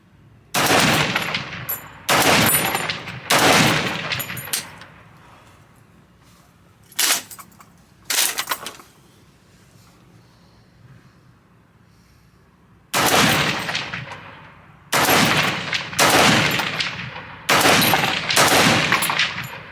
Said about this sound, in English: you'll see here in a second that the gun runs flawlessly